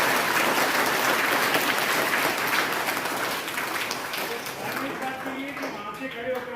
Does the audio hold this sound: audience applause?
yes